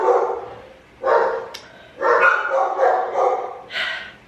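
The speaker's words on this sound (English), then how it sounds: "That's Colby barking at Mike." Colby, a pet dog, barks at someone out in the yard in a few loud, close bursts with short gaps, ending in a higher yelp.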